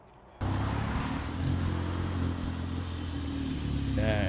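An Audi S3 engine running, steady and fairly loud, with a buzzy drone that sets in sharply after a quiet start and holds at an even level to the end.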